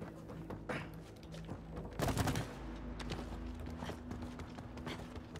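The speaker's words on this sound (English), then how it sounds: "Shooting plungers isn't real shooting." Plunger gun firing in the video game It Takes Two, a burst of rapid shots over rhythmic footstep-like tapping, with one loud cluster of bangs in the middle and lighter pops before and after.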